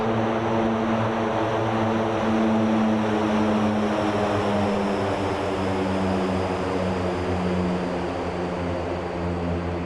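C-130J Super Hercules four-engine turboprop in the DCS flight simulator, a steady loud propeller drone with strong low harmonic hum and a broad hiss above it, continuous and alone without voices.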